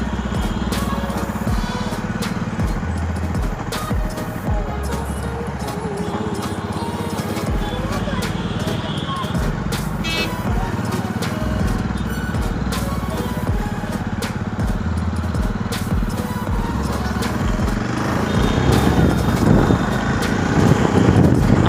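A Jawa Perak motorcycle engine drones and pulls steadily on a test ride through town, with rushing wind and road noise, a rider talking over it throughout and the engine swelling louder near the end.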